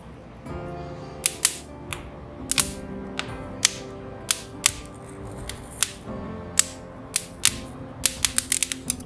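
Sharp irregular pops and snaps crackle over a low background hiss, clustering faster toward the end, like small wood shavings burning.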